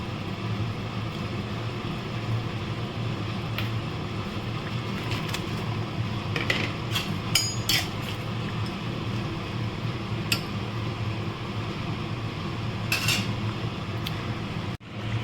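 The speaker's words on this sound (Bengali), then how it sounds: "ঝোলটা ফুটে গেছে। এবারে আমি বড়াগুলো দিয়ে দিচ্ছি" Papaya koftas go into a pot of boiling vegetarian curry. A steady simmer bubbles throughout, with scattered clinks and taps of a utensil against the pot and no speech.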